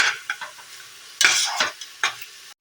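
Vegetables for a vegetable biryani being sautéed in oil in a pan, with a steady sizzle and several distinct stirring scrapes of a spoon against the pan, close and clear with no talking.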